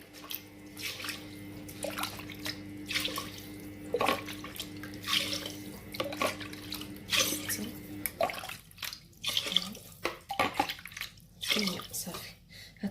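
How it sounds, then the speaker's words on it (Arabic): Water pours into a pot of rice for Moroccan-style kabsa, splashing in uneven surges with voices talking over it. "دونك غندير 8 الكيسان ديال الماء"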